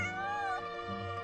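A cat named Bonnie in the video game Genshin Impact gives a soft, drawn-out meow that bends downward in pitch, close and fairly quiet, followed by a short second murmur.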